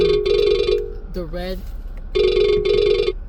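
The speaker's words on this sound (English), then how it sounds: "That's my phone." A mobile phone rings with a repeating electronic ringtone in two bursts, close and loud, while a voice speaks briefly between the rings.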